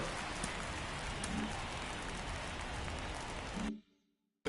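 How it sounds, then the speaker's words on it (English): Steady, dense rain pours down throughout a Cubs versus Red Sox ballgame in MLB The Show 24, loud and continuous with no voices, then cuts off abruptly near the end, leaving brief silence. "It feels like we might be headed towards a rain delay if the weather doesn't ease up"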